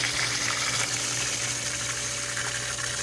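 Water rushes steadily out of a Hayward pool sand filter during backwashing, a constant loud gushing with pump hum underneath and no pauses.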